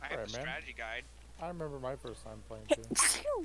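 A single sneeze bursts out near the end, set among ongoing conversational speech during a Pokemon Red game stream.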